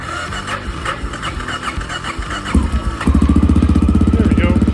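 A motorcycle with the choke on is cranked and catches, a rough chugging start that settles into a fast, steady, close idle with a pulsing rhythm, growing louder as it runs.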